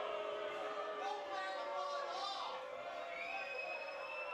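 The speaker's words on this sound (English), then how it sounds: "The crowd not happy, looking for a call there." Crowd at a soccer stadium during a U.S. Open Cup match between Seattle Sounders FC 2 and Portland Timbers 2 lets out a sustained, distant murmur of displeasure, with commentators talking over it.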